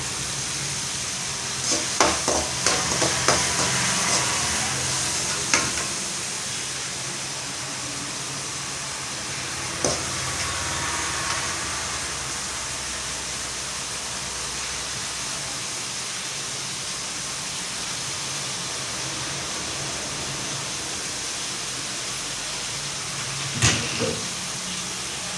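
Chopped ingredients sauté in hot oil in a pan for a dried fish curry, a long steady sizzle with a few stirring clatters near the start and end, close and without talk.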